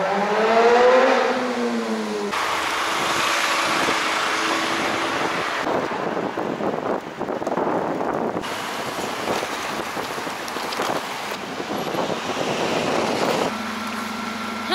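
Heavy road traffic roars past in Croatia, loud and continuous, with vehicles passing close by, the engine and tyre noise shifting in distinct stretches and a low engine drone near the start and end.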